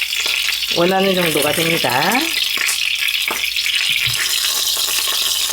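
A slab of pork belly fries in oil in a pan with a steady loud sizzle throughout, while a person talks briefly over it near the start.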